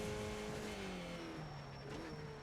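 A Skip Barber formula race car lapping Brands Hatch in the iRacing sim, engine pitch sliding down and back up through shifts and corners, quiet and continuous.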